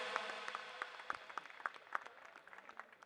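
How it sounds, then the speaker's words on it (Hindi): Faint, scattered clapping from an audience welcoming guests at a stage program, uneven claps rising and falling with a distant, thin quality. "तालियों से स्वागत।"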